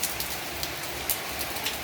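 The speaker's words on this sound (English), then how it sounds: "It's raining heavily." Dense, steady rain pouring down close by over a small courtyard garden, a constant wash of hiss with scattered louder drops, no talking.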